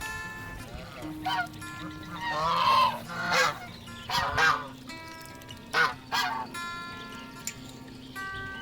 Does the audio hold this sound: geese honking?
yes